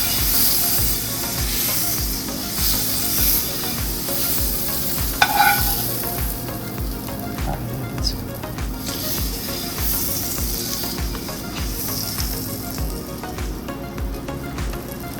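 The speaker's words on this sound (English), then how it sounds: "When you add your butter, you don't have to put it on just melt it like this" Butter melts and sizzles in a frying pan for pancakes, a steady moderate hiss with soft scraping and stirring clicks throughout and a brief sharper clatter midway, no voices.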